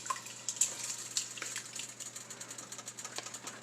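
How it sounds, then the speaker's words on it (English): Crushed tomatoes are poured into a bowl, giving a wet, sloshing splash with small irregular spatters and drips, faint and close, with no talking. "you gotta pour all the tomatoes in and it splashes all over the place"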